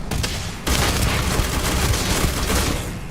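Enemy gunfire in the space shooter game Starfield, a dense, continuous burst of rapid shots that briefly dips and then surges louder and closer for the rest of the stretch, with no talking.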